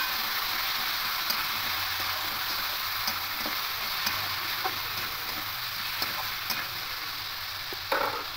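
Spices and grated tomato with potatoes fry in a pan for an okra dish, a steady broadband sizzle with soft, scattered scrapes and taps of stirring throughout, ending in a slightly louder clatter.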